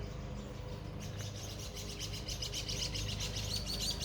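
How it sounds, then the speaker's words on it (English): Small birds in a garden of Japanese maples, deutzias and azaleas chirp and tweet in quick repeated bursts, faint and somewhat distant, over a steady outdoor hum. "these birds are chasing each other. You hear?"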